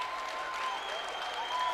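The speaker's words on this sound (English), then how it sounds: "Monarch faithful with a round of applause" Crowd applause fills a high school boys basketball gym during a foul on the home team, steady and continuous clapping throughout with a faint whistle-like tone above it.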